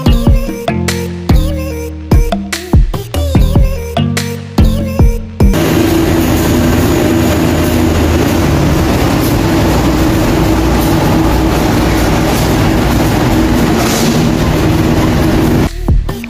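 A green commuter train on the Surabaya–Mojokerto line thunders past close by, a loud, steady roar and rumble after several seconds of choppy clatter, continuing to the end.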